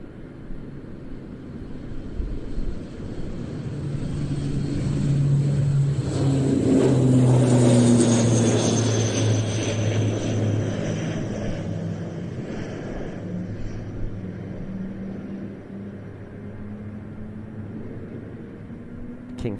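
Kingfisher search and rescue aircraft fitted with a search radar under the fuselage, departing the airshow, with a rising, swelling engine drone that peaks midway and then lingers as a steady rumble with wind buffeting.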